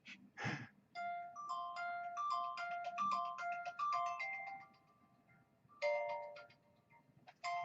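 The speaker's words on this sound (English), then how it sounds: "Yeah, I do. I got my phone ring." A phone ringtone plays a bright, repeating melodic tune in bursts, pauses briefly, then starts again, with a short breathy noise near the start and no talking over it.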